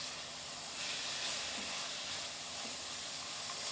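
Almonds and raisins sizzling in hot fat for a Kabuli pulao tadka, a steady, quiet hiss with soft crackles throughout, no voices.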